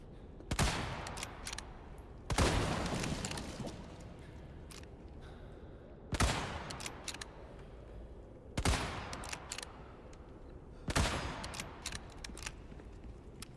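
Shotgun blasts from Resident Evil 4, five loud booming shots spaced a few seconds apart, each with a sharp crack and a lingering rumbling tail over quieter game ambience.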